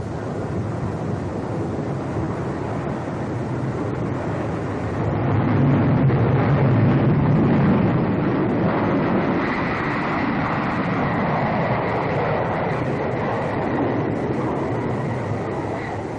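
Jet engines of a Boeing B-47 Stratojet bomber roar as a constant wash of noise, swelling in strength around the midpoint as the throttle opens, then holding a sustained loud drone.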